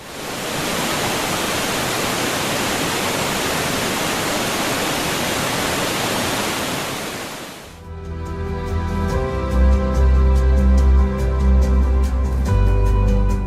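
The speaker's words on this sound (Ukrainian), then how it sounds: "Ось і сам красень водоспад." A waterfall in Yaremche in the Ukrainian Carpathians gives a steady, loud, hissing roar for about eight seconds before the sound cuts abruptly to something else.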